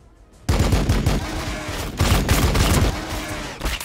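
Rapid volleys of gunfire from squads engaging the enemy in Warhammer 40,000: Battlesector, bursting in suddenly and rattling on in dense overlapping shots with a couple of louder surges.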